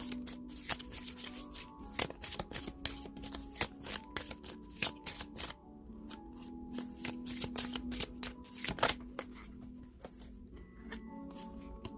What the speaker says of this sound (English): Okay, I'll pull a love card for you.